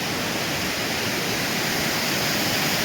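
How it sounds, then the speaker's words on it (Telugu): A steady, dense roar of falling water fills the whole stretch at a forest waterfall by the Siddha Ramappa pond near Srisailam, loud and unbroken with no voices. "స్వామి వాటర్ ఫాల్స్ స్వామి మొత్తం వాటర్ ఫాల్స్"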